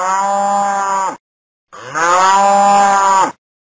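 A cow moos twice, two long, loud, drawn-out calls separated by a short pause.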